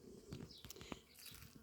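Bees buzzing around garden flowers, faint close passes of wingbeat drone rising and fading over a quiet background.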